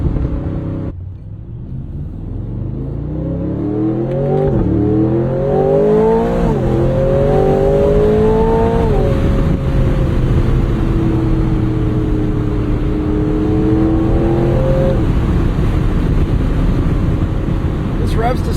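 A 2026 Aston Martin engine revs hard through the gears, each pull rising in pitch before dropping at the shift, loud and close from inside the cabin, then settling into a steady high drone.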